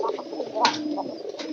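Pigeons in a loft coo softly in low, repeated phrases at close range, with a few brighter bursts of wing or cage noise breaking through the steady background.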